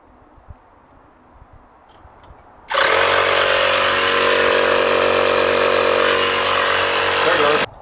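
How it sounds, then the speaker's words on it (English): A small air compressor powered by an EcoFlow Delta 2 power station starts abruptly and runs loud and steady, inflating a trailer tire after a few seconds of quiet room noise. "see if this Delta 2 can run this little air compressor strong enough to inflate the tires on my trailer"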